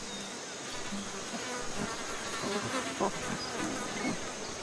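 Bees buzzing in the video game Ancestors: The Humankind Odyssey: a continuous, fairly close droning hum with wavering pitch and a few louder passes, heard without speech.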